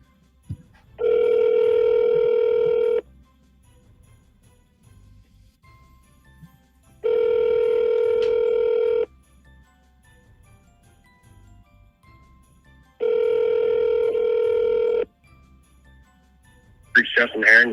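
An outgoing telephone call rings three times, each ringback tone lasting about two seconds with long silent gaps between. A brief noisy burst follows at the very end.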